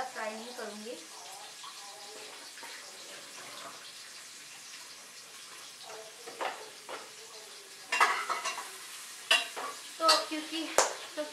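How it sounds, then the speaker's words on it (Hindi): Onions sautéing and browning in a pan, with soft sizzling and scraping stir strokes that grow louder toward the end, and someone speaking softly early on. "प्याज को सॉटे करूंगी, हल्का सा ब्राउन भी करूंगी"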